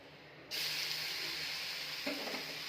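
Uttapam sizzles in oil on a hot pan, a soft hiss that jumps up suddenly and holds steady, with a brief clatter near the end, no voices.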